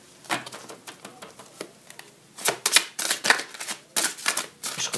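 Tarot cards being shuffled by hand, a run of crisp, close riffling bursts and soft flicks in irregular clusters, with no talk over them.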